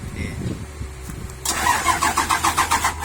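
The diesel engine of a dump truck cranks with a grinding starter while the accelerator is held down, then catches halfway through into a loud, lumpy idle with pulsing beats, close to the microphone.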